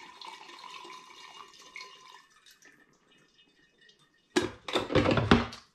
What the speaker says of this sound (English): I'm going to pour this into my demijohn, which I've got just here